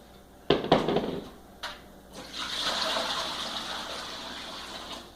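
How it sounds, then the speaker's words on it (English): Water from a kitchen pot of pasta poured out to drain, a sudden splashing gush followed by a steady rushing flow into the sink, close and moderately loud with no talk. "we're going to drain the pasta"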